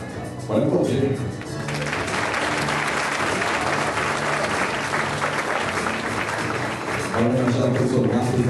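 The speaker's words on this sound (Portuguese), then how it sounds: "Pode aplaudir." Sustained audience applause fills a special honouring ceremony, dense and steady for most of the stretch, with a voice speaking over the clapping at the start and again near the end.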